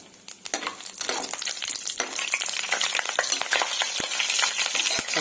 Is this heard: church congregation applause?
no